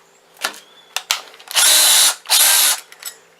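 A power drill boring a starter hole in PVC pipe for a DIY chicken feeder, with a few short taps and clicks followed by two loud, sustained whirring bursts close by.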